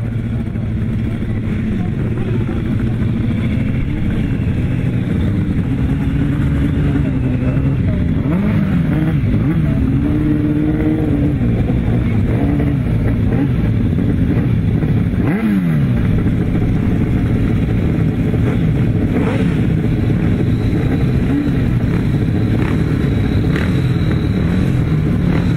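Sidecar motorcycles race at a grasstrack meeting, their engines revving and droning in overlapping waves, loud and close, with pitch rising and falling as machines pass, beneath an announcer's voice.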